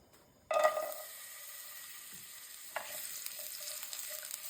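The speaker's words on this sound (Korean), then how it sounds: "이렇게 마늘을 살짝 겉에가 노란기 날 때까지 볶아줄 거예요" Garlic frying gently in olive oil over medium heat, a quiet steady sizzle that starts abruptly as it hits the pan, with faint stirring clicks, close and soft.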